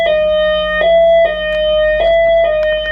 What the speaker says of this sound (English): that's the alarm, because I'm probably the last person here